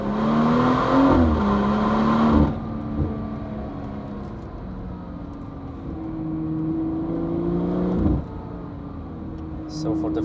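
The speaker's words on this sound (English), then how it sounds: "enjoy the very good sounding and performance exhaust from BMW" A BMW M140i with a performance exhaust climbs the Hulftegg Pass in the Swiss Alps, its engine note rising and falling through gear changes, loud and close, with a speaking voice running over it.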